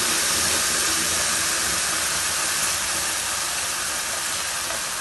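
Tomato puree sizzling as it goes into a hot pan of oil and spices for Maharashtrian tomato saar, a loud, steady, hissing sizzle that holds with no speech.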